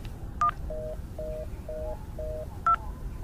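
Telephone keypad tones dialing a cell phone while stranded in the desert with a flat tire, several short steady beeps in a rhythmic sequence with two brief higher chirps, alone over a low background hum.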